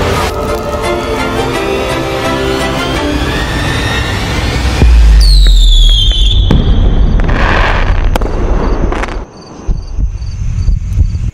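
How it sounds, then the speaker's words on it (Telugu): Loud music plays, then a sharp burst of firecrackers crackles and pops around the middle, followed by scattered bangs and a high whistling tone, at a birthday celebration. "టపాకులు పేలినాయి రాయ్, టపాకులు పేలినాయి."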